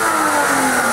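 A BMW engine revs hard before a drifting demonstration, giving a loud, close, sustained mid-pitched roar for just under a second with no voices over it.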